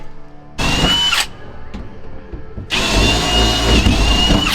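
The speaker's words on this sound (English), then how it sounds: "he's drilling out the red" A power drill whirs loudly in two close bursts, the first short and the second longer and sustained, with a quieter pause between, drilling in a Holden VL engine bay.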